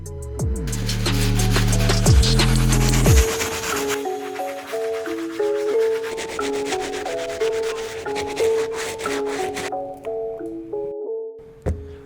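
A stiff bristle brush scrubs white Adidas NMD Human Race sneakers in steady, close rubbing strokes, heard over a melodic background music track for about twelve seconds without talk.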